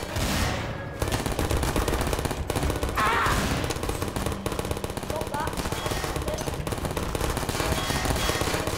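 Rapid, loud gunfire in Garry's Mod DarkRP comes in sharp, repeated bursts with brief gaps, over constant game noise and faint voices.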